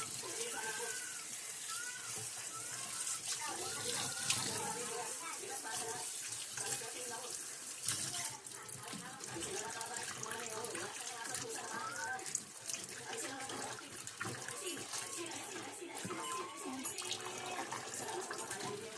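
Cabbage being washed for Filipino-style kimchi under a running kitchen tap, a steady faint splashing stream of water throughout, with a voice talking now and then.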